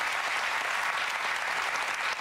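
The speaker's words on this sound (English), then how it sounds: "We give her a big applause." A television talk show studio audience gives steady, dense applause, a continuous wash of clapping hands that holds at even loudness before tapering slightly at the end.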